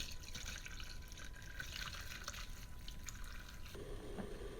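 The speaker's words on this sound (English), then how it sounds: "So I'm going to do the usual process and just filter this through some muslin." Cherry-infused vodka dripping as it filters through muslin: a soft, steady trickle and patter of liquid against constant background hiss, close but faint.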